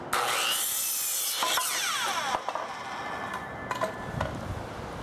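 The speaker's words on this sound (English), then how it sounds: "cutting the 2x4s." A saw cuts through 2x4 wooden boards for a table frame, with close, rasping strokes and scraping bursts of varying pitch, loud and alone without talk.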